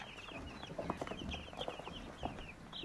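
Young broiler chicks cheeping in high, rapid peeps, several birds close by with scattered soft rustling.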